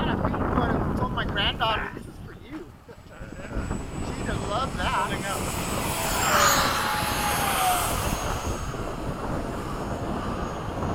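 Jet aircraft with afterburner flying in formation, a loud steady engine roar mixed with wind noise on the microphone, with a tone that sweeps in pitch partway through, while people talk over it.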